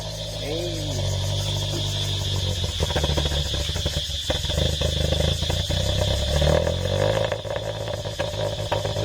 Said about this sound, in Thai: เดี๋ยวคันนี้มาฟังเสียงท่อกันหน่อย